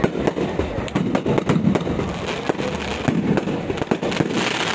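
Closing fireworks at the Kota Dussehra fair, a dense run of sharp bangs and crackles with rumbling booms over a steady crowd noise, loud and continuous.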